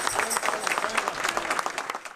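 A crowd applauds continuously as a coffin arrives at a funeral in Aracaju, Brazil, dense rapid clapping from many hands, loud and sustained throughout.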